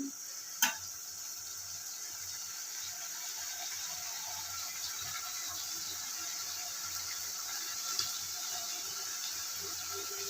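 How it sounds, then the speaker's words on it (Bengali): Rice sautéing in a pan for posto curry: a steady, quiet sizzle with faint scraping of stirring throughout, marked by a sharp clack near the start and a lighter tap later. "এবার একটু ভাতটা ভালো করে কষিয়ে নেব।"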